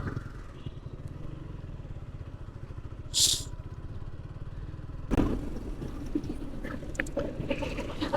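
Steady low engine drone of a new motorcycle cruising along, with wind rush and a brief high squeal partway through; no speech.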